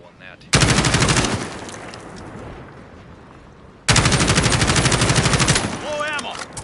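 Two long, loud bursts of full-auto fire from a SCAR rifle in Call of Duty, each a dense rapid stream of gunshots emptying the magazine, split by a short quieter pause.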